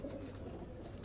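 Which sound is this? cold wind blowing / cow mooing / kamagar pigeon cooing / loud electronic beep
kamagar pigeon cooing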